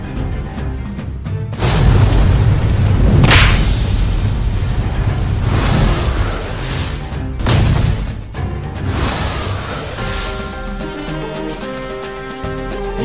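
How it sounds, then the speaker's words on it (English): Heavy booming lava-burst explosions from a fantasy dragon hero in a Mobile Legends animation, loud rumbling blasts with whooshes rolling in several waves, then fading under swelling orchestral music. "Lava burst!"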